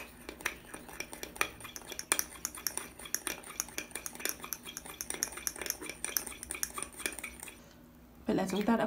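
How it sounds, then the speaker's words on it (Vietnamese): A spoon scrapes and clinks against a bowl while a hair removal mixture is stirred, producing steady rapid rattling close up. The stirring stops near the end, and a brief thud follows. "Sau đấy các bạn trộn đều hỗn hợp lên."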